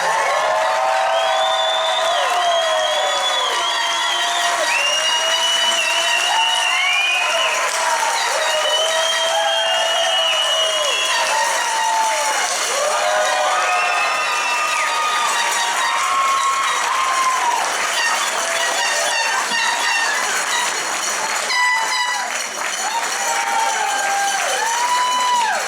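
Graduation ceremony audience at Palmer College of Chiropractic West greeting the graduating class with sustained applause and cheering, whoops and shouts rising over a steady wash of clapping that fills the hall loudly throughout.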